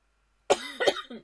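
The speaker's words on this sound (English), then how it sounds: "I'm going to do a little cough first" A single close cough made of two or three quick hacking bursts, loud against silence.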